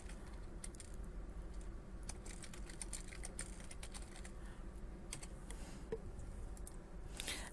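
Quiet, steady typing on a computer keyboard, with rapid irregular key clicks running throughout over a faint background hum.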